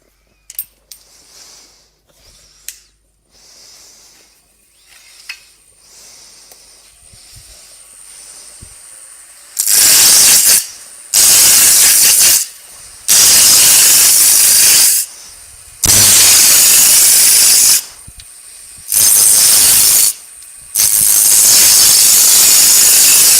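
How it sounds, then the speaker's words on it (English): A spindle roughing gouge cuts wood on a lathe during copy turning of legs, in loud hissing bursts of several seconds each, separated by short pauses, after a quieter stretch of faint workshop noise. "So I just come up to there with the spindle roughing gouge into there, and then I'll use the skew chisel from then on."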